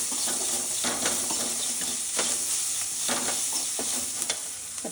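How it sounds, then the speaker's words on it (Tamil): Small onions sautéing in a pan for a village-style drumstick-leaf kuzhambu, a steady close sizzle with intermittent scraping stirs, no talking. "வெங்காயம் சின்ன வெங்காயம் நல்லா கொஞ்ச நேரமாக வதங்கணும்."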